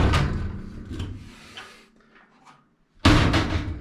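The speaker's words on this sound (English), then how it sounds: "if you don't tape your door shut, it flips open spectacularly" A Maytag washing machine door flipping open during spring replacement: a few scattered clunks and rattles, a quieter lull, then one sudden loud bang as the door swings open, followed by a short fading rattle.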